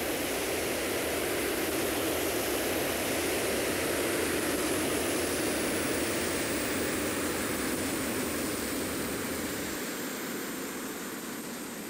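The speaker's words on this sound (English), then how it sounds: "here's the takeoff from Shetland Islands" An airplane taking off from the Shetland Islands, heard from the tower as a steady broadband engine roar that holds level and then fades slightly toward the end, with no voices.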